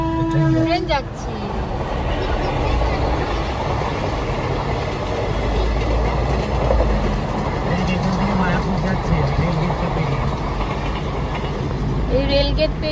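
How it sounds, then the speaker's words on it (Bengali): A train running along a railway line near a rail gate, a loud, sustained rumble of wheels and cars rolling past close by, with brief horn-like tones at the start and end. "ট্রেন যাচ্ছে।"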